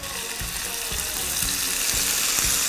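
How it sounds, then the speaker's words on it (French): Balsamic vinegar hits a hot pan of honeyed lamb with a dense, continuous sizzle close by, marked by a few rhythmic scraping strokes as the pan is deglazed. "Je vais déglacer au vinaigre balsamique."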